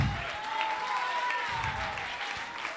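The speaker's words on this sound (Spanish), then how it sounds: "Hay un aplauso para mi Dios" A church congregation applauds together, a steady, moderately loud wash of clapping that carries on for a few seconds, with a faint voice and a sustained tone underneath.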